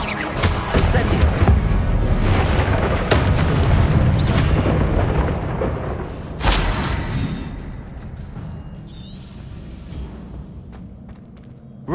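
In the video game Hogwarts Legacy, an Incendio fire spell is cast amid loud, dense combat, with roaring booms and crashes and a sharp impact midway before the noise gradually settles.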